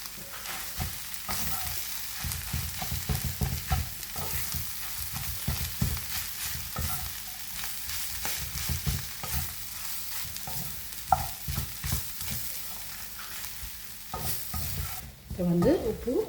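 Mashed boiled potato stirred in hot oil in a pan, a soft steady sizzle under repeated scraping strokes of a spoon, fairly close and quiet, with no voices.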